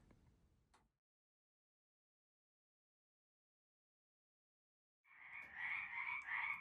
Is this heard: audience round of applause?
no